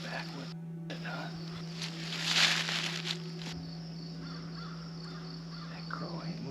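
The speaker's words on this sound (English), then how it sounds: "That crow ain't moving, that's for sure." Crow caws ring out in an open summer blueberry field during a turkey hunt, a few calls carrying over a steady low hum, with people talking quietly nearby.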